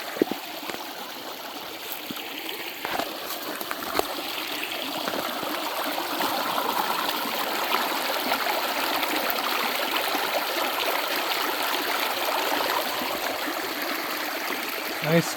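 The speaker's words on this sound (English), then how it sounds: "stream is right down there" A cold mountain stream runs below a backcountry campsite on Proffit Mountain; steady, continuous rushing and trickling water fills the whole stretch at moderate loudness, with a few faint knocks and rustles on top.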